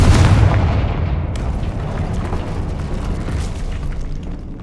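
A Confringo fire spell blasts in the game Hogwarts Legacy: a loud booming burst at the start that decays into a long, rumbling roar.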